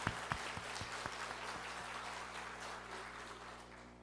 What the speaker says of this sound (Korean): 하나님께 다시 한번 영광의 박수를 올려드립시다